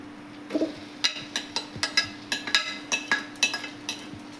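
Tomatoes and onions for chicken curry are stirred in a pan with a utensil, giving a steady run of about a dozen sharp clinks and scrapes at a brisk, even rhythm, fairly quiet with no talking.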